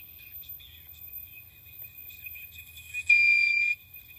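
A thin, high electronic buzzing tone from a small buzzer speaker driven by a radio signal holds steady at low volume, then grows louder for about a second before dropping back.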